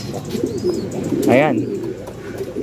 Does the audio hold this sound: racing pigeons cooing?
yes